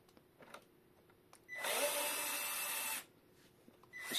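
A power screwdriver unscrewing screws from an ElecHive 2500 portable power station: a single burst of motor whirring lasting about a second and a half, close and fairly loud against a quiet background.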